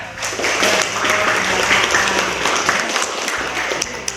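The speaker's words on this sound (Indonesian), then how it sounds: "Oke, tepuk tangan ya." Audience applause at a teachers' training program event (Pendidikan Guru Penggerak), steady and loud clapping filling the room for about four seconds.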